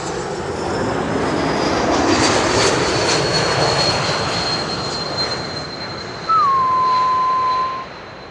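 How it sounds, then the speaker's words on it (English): An Air France Bombardier C-Series 300 airliner arriving at Schiphol, a loud, broad steady engine roar with a whining tone, close and continuous, with a brief rising whistle near the end. "Air France Bombardier C-Series 300 is coming next."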